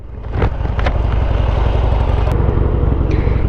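Harley-Davidson Roadster motorcycle engine rumbling loudly and close during a ride, a deep continuous throbbing roar with a brief rev near the start, no talking.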